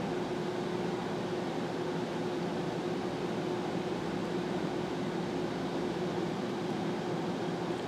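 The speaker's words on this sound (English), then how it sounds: "That's what you sound you hear in the background is the AC in this trailer." An air conditioning unit runs inside a trailer, giving a steady, even whoosh of airflow with a faint constant hum beneath it. It drones on unchanged and alone, at moderate distance.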